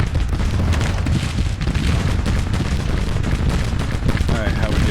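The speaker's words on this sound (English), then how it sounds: "Plus artillery firing." Artillery and musket gunfire from a Civil War strategy video game battle, a dense, continuous barrage of booms and crackling shots at constant loudness, with a voice faintly audible underneath.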